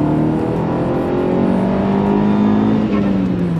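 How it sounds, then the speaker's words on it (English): A 380 bhp SEAT Leon Cupra track car launches hard with wheel spin, its engine revving loud and close. The pitch climbs steadily over several seconds. "Too much wheel spin."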